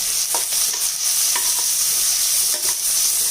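Four large chopped onions sizzle loudly in a hot pan with a constant frying hiss, broken by a few soft scrapes of stirring.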